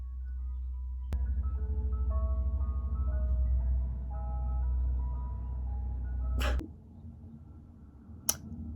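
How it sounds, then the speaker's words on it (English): An ice cream truck passes outside, its chiming melody playing a sequence of bright tones at moderate distance over a low engine rumble, followed by a couple of sharp clicks. "Do y'all hear an ice cream truck?"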